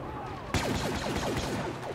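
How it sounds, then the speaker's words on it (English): Rapid blaster gunfire from the 2015 Star Wars Battlefront video game erupts suddenly after a quiet moment, a steady run of repeated shots with a faint voice in the background. "Oh, I'm shooting the natives."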